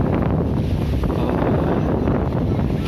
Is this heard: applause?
no